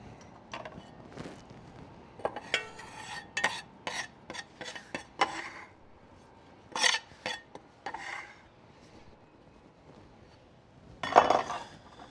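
Shredded sharp cheddar, gruyere and smoked Gouda drop into a pot of hot pasta, with sharp metallic clinks and scrapes of utensils arriving in scattered bursts over a quiet background.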